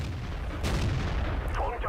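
Tank cannon fire in a World of Tanks–style battle featuring a T-34-1 and a VK, a single booming shot under a commentator's voice, fairly muted and close.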